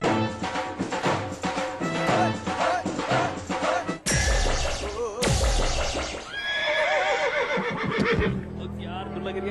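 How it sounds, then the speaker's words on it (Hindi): Horse whinnying in a Hindi television advert for anti-rust cement, several loud neighs among music, clip-clop and jingling effects, with a sharp crash partway through. "पता नहीं घोड़े को क्या हो गया"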